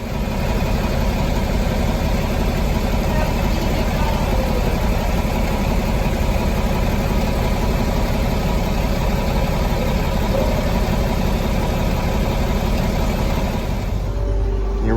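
A loud, steady tractor engine rumble runs without pause while the tractor lifts a load with a strap, cutting off abruptly at the end.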